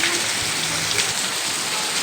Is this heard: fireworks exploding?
no